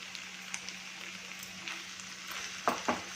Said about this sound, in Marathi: तर आपण याच्यामध्ये बारीक चिरलेले टोमॅटो घालणार आहोत